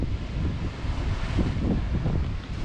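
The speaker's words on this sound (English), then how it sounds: "These waves are blasting up in the air in front of us" Sea waves surging and crashing on a wild Scottish North Sea shore, a heavy rolling roar with gusty wind buffeting the microphone, loud and close with no voices.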